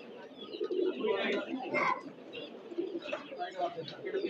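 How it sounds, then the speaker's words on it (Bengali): Pigeons coo softly at a busy pigeon market in Sarulia, their low, steady calls mixed with chirps and the murmur of voices nearby. "আরও কবুতর আছে ভাইয়ের এখানে"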